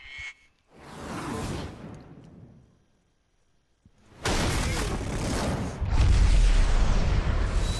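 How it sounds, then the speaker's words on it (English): Bombs exploding in the video game BioShock: a deep rumbling boom that swells and fades, a moment of near silence, then a heavier, sustained roar of blasts with rolling low-end rumble, loud and close, with no talking. "Look out, those are bombs."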